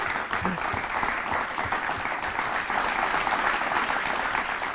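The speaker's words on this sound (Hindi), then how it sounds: "एक बार तालियां आपके लिए मैं बजाना चाहता हूँ अपनी तरफ से" A young audience applauds at an Awakening India talk on Swami Vivekananda, a continuous even wash of clapping that holds steady for several seconds without letting up.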